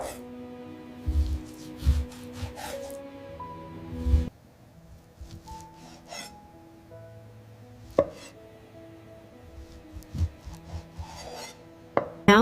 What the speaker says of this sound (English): I'm cutting the pork into small, roughly 1 centimeter pieces.